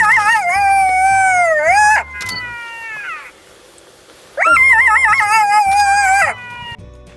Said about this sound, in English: at night we hear jackal's howl.